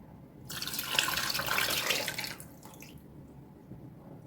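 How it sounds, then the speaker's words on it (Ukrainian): Water pours from a tap into a pot for about two seconds, a bright splashing rush that stops abruptly, leaving quiet room tone. "Зараз ще долию води обов'язково."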